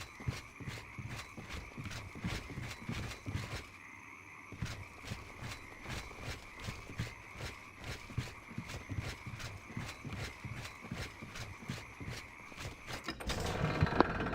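Steady rhythmic clip-clop of horse hooves in the Oblivion video game, evenly paced and close, continuing for the whole stretch before a burst of other noise at the very end.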